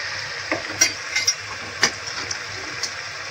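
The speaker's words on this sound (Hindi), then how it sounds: "इसको अच्छी तरह भून लेंगे" Chili powder, salt and turmeric frying in a pan, a soft steady sizzle with a few light clicks and scrapes from stirring, fairly faint and close.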